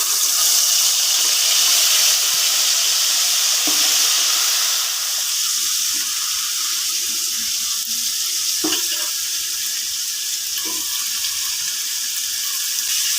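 Spices fry in a pan for a potato egg curry with a loud, steady hiss and sizzle and a few small pops and clinks.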